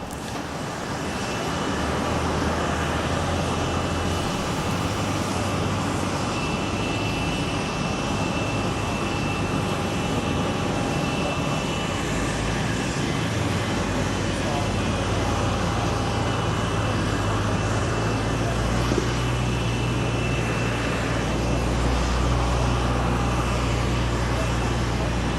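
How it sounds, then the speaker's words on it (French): Steady, loud engine roar from the papal airplane being readied for takeoff on departure from Armenia, a continuous broad rumble lasting throughout without a break. "Alors que l'on prépare l'avion pour le décollage"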